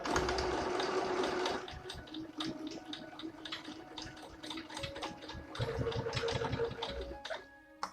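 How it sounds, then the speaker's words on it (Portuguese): A sewing machine stitches along a fabric strip for a newborn's comfort toy, its rapid mechanical stitching steady at first, then broken into short, fainter bursts with light clicks and rustling. "Passamos então aqui a costurar a nossa faixa."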